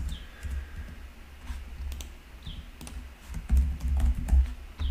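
Name being typed on a computer keyboard, a steady patter of soft key clicks close by with no talking.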